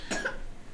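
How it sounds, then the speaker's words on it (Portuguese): A boy coughs once, a short, close burst at a quiet indoor event, with no talk around it. "Ele tá tossindo, tá sem água, né?"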